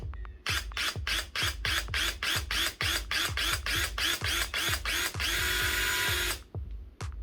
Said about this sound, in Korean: 손으로 이렇게 한 다음에 살살 뚫어볼게요.